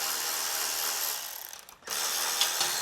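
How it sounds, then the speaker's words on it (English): Bolts backed out of the muffler top cover on a Troy Bilt 2420 snow blower, heard as a close, continuous whirring power driver that stops briefly, then runs again with a click near the end. "It looks like I might be able to take this top cover for the muffler off just by taking off these 2 bolts here."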